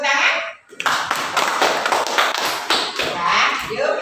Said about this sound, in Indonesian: Ya, kita beri tepuk tangan.